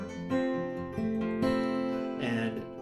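An acoustic guitar is played in first position without a capo, the thumb fretting over the top of the neck, with sustained chords changing every half second or so, up close and alone.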